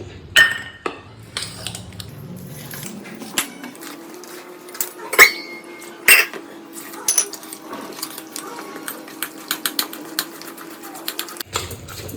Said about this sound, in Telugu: కొన్ని నీళ్ళు పోసుకొని బాగా కలుపుకోవాలి.